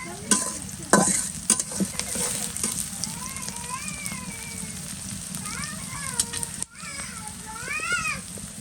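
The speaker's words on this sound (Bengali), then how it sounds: "এটা কিন্তু অনেকটা ভাজা ভাজা হয়ে আসছে" Onions fry and sizzle in a pan, stirred with a spatula in irregular scrapes and clanks, close and steady, while someone talks over the cooking.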